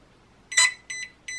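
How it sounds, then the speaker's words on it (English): Three short electronic beeps from a Hobbywing Quicrun 10BL120 brushless RC speed controller, evenly spaced, sharp and close with nothing else behind them. "three beeps"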